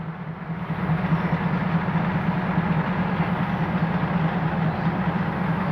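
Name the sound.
diesel railcar at station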